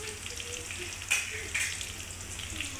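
Onion and whole spices fry in hot oil in a pan, a steady close sizzle with a few louder spitting bursts and light stirring, no talking.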